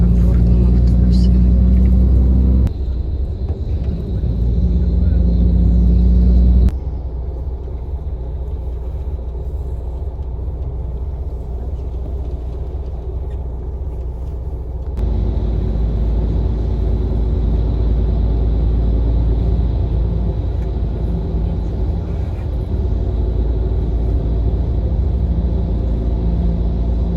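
Interior hum of a comfortable bus on the road in Turkey: a continuous low rumble and road noise that shifts level a few times, with occasional faint voices beneath.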